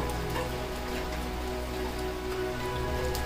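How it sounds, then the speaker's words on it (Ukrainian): Heavy rain pours outdoors at night and patters steadily on surfaces as a constant, moderately quiet hiss, with scattered louder drops and no talking. "І зараз оце ліпаше дощ."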